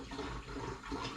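Raspberry and rhubarb Ribena tipped into a cider brew, a continuous close gurgling pour of liquid.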